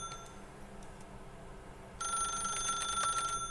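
A telephone rings in The Stanley Parable: Ultra Deluxe, its bright metallic bell trill starting partway through and continuing steadily over a faint background hum.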